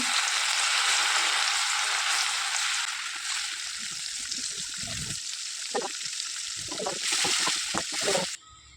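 Marinated chicken pieces sizzle and crackle loudly in hot oil in a pan, a steady frying hiss with stirring and clinks throughout, ending abruptly.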